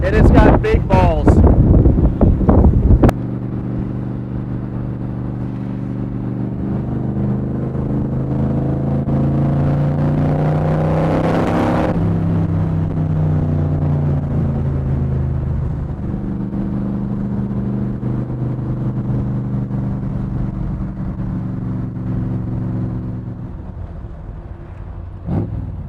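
A 1965 Superformance Cobra replica roadster driving, a close, loud engine drone with rising and falling pitch as it accelerates and shifts, mixed with heavy wind buffeting, after a short burst of noise at the start.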